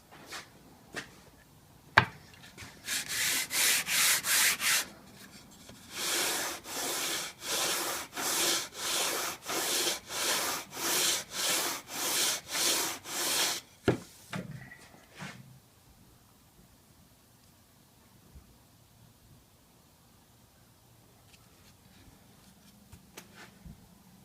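A small hand sander rubs back and forth across wood in a steady series of about a dozen rasping strokes, close and distinct, then stops and quiet handling follows.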